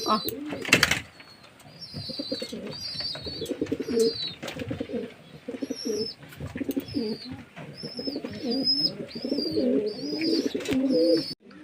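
Pigeons coo close by in a home loft, repeated throaty rolling coos overlapping one another with occasional wing flaps, a person talking intermittently over the birds.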